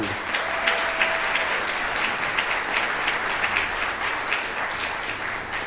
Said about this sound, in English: Can we give Mr. Steep a round of applause